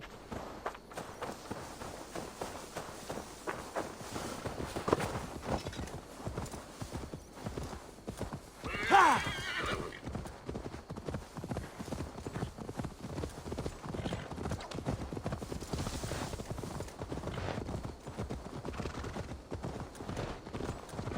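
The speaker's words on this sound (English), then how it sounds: "Now to deliver Magni his horse." Steady clip-clop of horse hooves trotting throughout, with a brief whinny partway through and continuous background noise, in the video game Assassin's Creed Valhalla.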